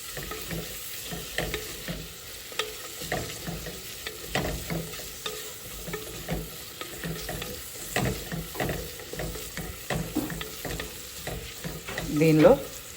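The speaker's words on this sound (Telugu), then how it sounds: "ఇదిగోండి ఆనియన్స్ అయితే వేగినాయి" Onions frying and sizzling in a pan for Nellore-style katte pongal, with steady sizzle and repeated stirring scrapes throughout and a louder clatter near the end.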